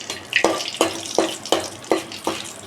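Whole spices such as cinnamon, cloves, cardamom and two bay leaves stirred in a pan for pulao, giving six evenly spaced scraping strokes over a soft continuous sizzle, close and fairly loud with no talk.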